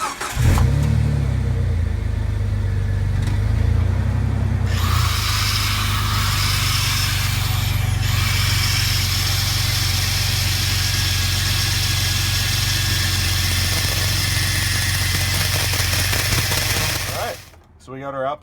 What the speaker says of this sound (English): Let the cutoff wheel do its job. Don't force it, don't push it, just try to keep a nice straight line.